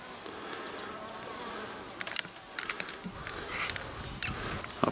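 Honeybees buzz around a backyard beehive on a quiet day, a soft steady insect drone with a few sharper passes flying near the microphone, no talking.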